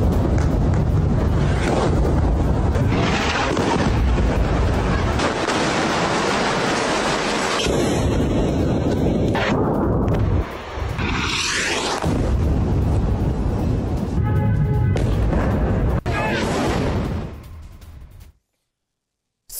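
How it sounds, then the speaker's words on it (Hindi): Israeli bombardment in Bint Jbeil, southern Lebanon, sounds as a long, loud, rumbling roar of blasts with wind buffeting. Shorter thuds and crackles surge within it before it cuts to silence. "बिन जबेल में आईडीएफ की भीषण बमबारी हुई।"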